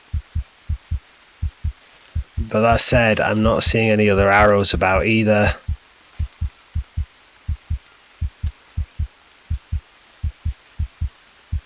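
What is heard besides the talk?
heartbeat sound effect in Green Hell, video game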